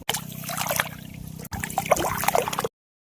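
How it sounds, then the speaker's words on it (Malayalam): Water trickling and gurgling slowly into a harvested paddy field, a close, continuous dribble with a brief break midway before it cuts off near the end. "ഇവിടെ നമ്മുടെ പാടത്ത് കൊയ്ത്തെല്ലാം കഴിഞ്ഞ് വെള്ളം ചെറുതായിട്ട് കയറ്റി വരുന്നതേ ഉള്ളൂ"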